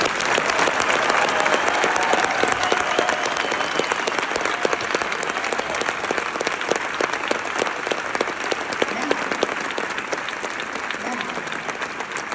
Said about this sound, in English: let's clap up for the over 50 crowd that's sitting and respect our elders